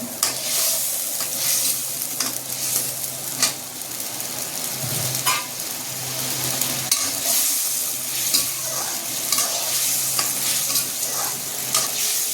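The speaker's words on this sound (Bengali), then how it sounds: "কষিয়ে নেব" Hilsa fish sizzles in hot oil with spices as it is sautéed and stirred in a pan, steady bright frying hiss broken by scraping stirs and occasional clinks, close and continuous.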